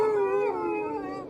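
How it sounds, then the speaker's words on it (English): Several dogs howl together in a snowy night setting, sustained overlapping wailing tones that slowly fade, loud and close, with no talking. "his dogs responded with a chorus of howls"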